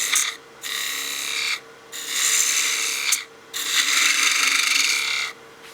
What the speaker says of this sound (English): we can use our spindle gouge to give us some clearance